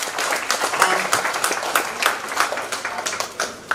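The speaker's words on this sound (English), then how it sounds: "please give them a huge round of applause" Applause and clapping at the grand launch of Illumina, an advanced skincare treatment service at Star Hospitals, a dense, steady crowd clatter sustained for several seconds with a few louder bursts.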